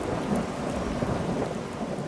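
Rain pours steadily over the Amazon rainforest during a thunderstorm, a dense continuous hiss with low rumbling thunder beneath it, loud and unbroken throughout.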